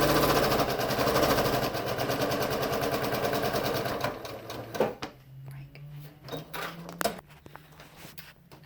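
Sewing machine stitching a seam on a log cabin quilt block, a fast steady mechanical chatter for about four seconds that then stops, followed by quiet handling clicks and faint rustling.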